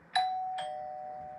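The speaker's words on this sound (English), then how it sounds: "the doorbell rang." A two-tone doorbell chime, a bright ding then a dong ringing out and slowly fading, clear and alone.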